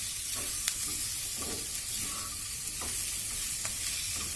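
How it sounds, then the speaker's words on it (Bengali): Capsicum stir-fried in a little oil in a pan for chicken fry, a steady soft sizzle broken by scraping spatula strokes at irregular intervals, close and continuous with no voices. "ক্যাপসিকামটা দিয়েও একটু নরম হওয়া অবধি আমরা নাড়তে থাকবো। ক্রমাগত নাড়তে হবে কিন্তু"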